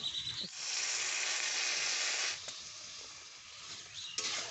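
Broth poured over fried singi fish in a hot pan with potato and bitter gourd sets off a loud, close hiss of sizzling. It swells for about two seconds, then settles into a softer, steady simmering crackle, with no talking.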